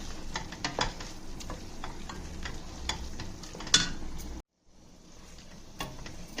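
Rice being stirred into tomato curry in a pan, close scraping and light clicking of a spoon over a low sizzle, broken by a brief silent gap before the quieter stirring resumes.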